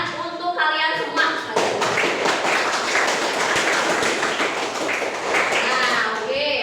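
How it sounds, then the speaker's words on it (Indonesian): Students in a classroom break into close, brisk applause that rises after a brief lead-in and continues steadily, with voices mixed in. "Tepuk tangan untuk kalian semua."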